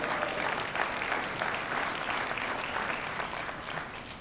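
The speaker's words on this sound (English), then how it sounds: "I think that deserves an applause." Dense, even applause from an audience at a hall of fame ceremony, a continuous crowd of clapping hands holding steady and tapering slightly at the end.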